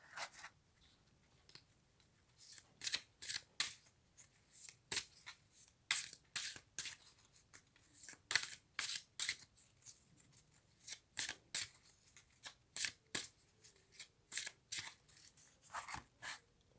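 Tarot cards are shuffled by hand in quick, close papery riffles and slaps, arriving in irregular bursts with short pauses between them, with no voices.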